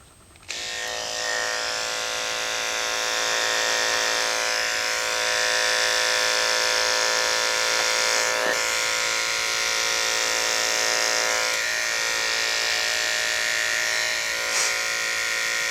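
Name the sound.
electric clipper trimming hair from dog's paw pads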